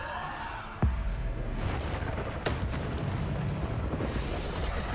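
A Bombarda explosion spell going off in a wizard video game: a sharp boom near the one-second mark, then a sustained roaring rumble with a second crack midway, loud and close, with no voices.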